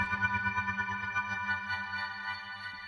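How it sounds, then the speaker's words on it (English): A synth pad swells and fades rhythmically as an LFO modulates it, the pumping speeding up over a few seconds; the sustained harmonic tone is fairly quiet, with no voice present. "the audio is just pumping in and out, and then it goes faster"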